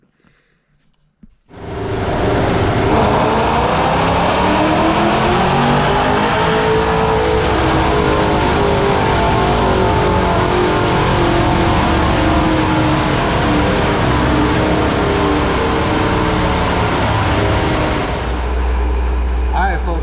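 A car engine running on E85 fuel during a dyno pull: a loud, sustained roar that climbs steadily in pitch for over fifteen seconds before cutting off abruptly, with a quieter lead-in at the start.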